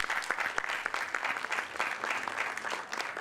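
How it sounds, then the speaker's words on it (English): Audience clapping at a film festival master class on writing and direction, a brisk, moderately loud patter of many hands heard on its own for a few seconds. "Keep those hands clapping, ladies and gentlemen"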